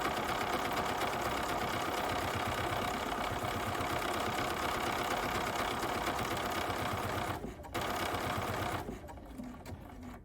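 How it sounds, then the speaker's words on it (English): A BERNINA 540 sewing machine stitches small triangles, its steady mechanical whirr running loud and close for about eight seconds before cutting out briefly, then resuming more quietly. "we will just stitch a few of these little triangles here. And the machine's going to stop automatically when it has done 3 of them."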